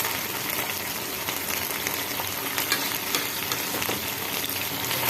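Noodle dish sauces of tomato, soy and sweet chili stir-fried in a hot pan, a dense continuous sizzle and frying hiss with stirring, close and steady throughout, no voices.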